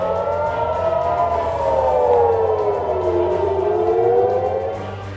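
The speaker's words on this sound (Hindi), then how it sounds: "लेबनान से लगे इजरायली इलाके में लगातार सायरनों की आवाज गूंज रही है।" Civil defense sirens in northern Israel near the Lebanon border wail continuously, pitch sweeping slowly up and down in long, overlapping tones over a steady low hum.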